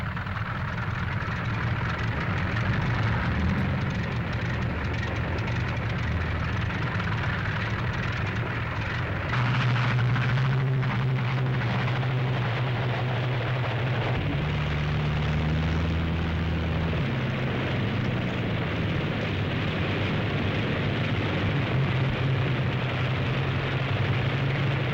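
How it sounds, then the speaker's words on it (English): Radial engines of World War II P-47 Thunderbolt fighters roar continuously at an airfield as the planes start up and take off, a dense loud drone that swells and shifts in pitch as aircraft pass. "Six minutes after the first engine starts, the first squadron must begin the takeoff."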